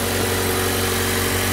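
A Mazda 6 with a Skyactiv four-cylinder engine idles steadily, a close, continuous low hum with even harmonic throb and no speech.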